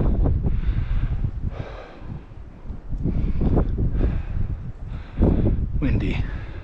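Gusts of wind buffet the microphone in loud, uneven bursts outdoors, with a few quiet breaths or murmurs mixed in.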